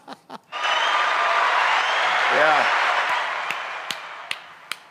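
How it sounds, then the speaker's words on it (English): A studio audience on a sports talk show breaks into sustained clapping and cheering that swells and then slowly fades, with a quick voice at the start and a brief bit of talk partway through. "That's well worth the applause there"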